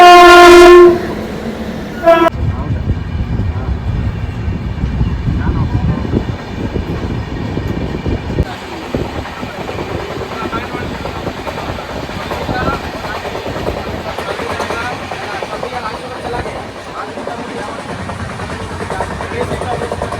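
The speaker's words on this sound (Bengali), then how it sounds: "আমাদের ট্রেন এখানে দাঁড় করিয়ে আর এদিক থেকে পাস করে দিচ্ছে হচ্ছে একটা মাল" A goods train rolls past a stopped passenger train at Durgapur station, its horn blaring at the start before a long, loud rumble and clatter of wagons carries on steadily at close range.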